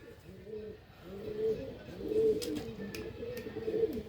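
Pigeons with deep purple feet and eagle-like beaks coo repeatedly in a breeding setup, several soft overlapping calls rising and falling in steady rhythm, close by and moderately loud, with no talk over them.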